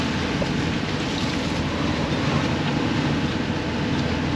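A strong 45-knot katabatic wind and rough seas batter a sailboat off the South Island of New Zealand, making a loud, unbroken roar of rushing air and water close by with no voices.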